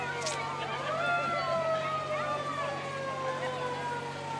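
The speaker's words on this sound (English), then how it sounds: "I hear a siren." A siren wails in long rising and falling tones at a Christmas parade, moderately distant, over a constant low hum, with a brief high squeak near the start.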